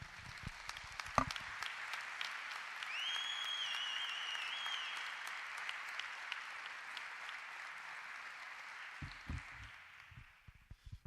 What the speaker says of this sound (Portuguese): Eu queria que você o aplaudisse, porque Ele está aqui